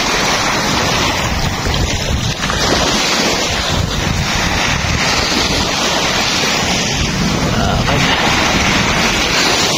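Sea surf on the white sand beach of Mantigue Island in Camiguin, a continuous loud roar mixed with heavy wind buffeting the microphone, with possible faint voices underneath.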